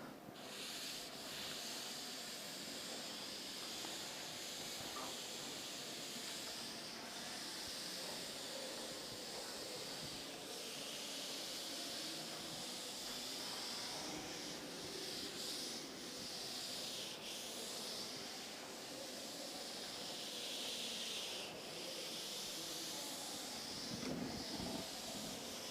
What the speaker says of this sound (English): I will rub the board if you have written.